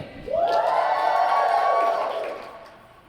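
A conference audience at an HR symposium lets out a loud, swelling cheer with whoops that holds for about two seconds and then dies away, with no clear clapping.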